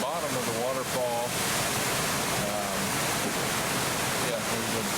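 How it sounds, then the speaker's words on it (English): At the base of a waterfall near Tauranga/Rotorua, a broad, constant rushing roar of falling water fills the scene, with brief speech-like sounds faintly heard over it. "Here's the bottom of the waterfall."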